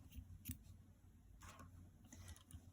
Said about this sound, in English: So you can cut off the yarn.